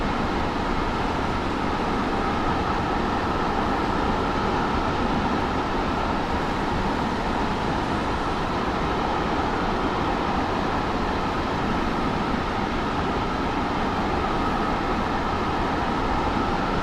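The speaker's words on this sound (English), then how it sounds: "We're just testing a new train." A train runs in the Train Sim World 6 video game, giving a steady, broad rolling rumble and hiss that stays even and loud for about seventeen seconds with no talking.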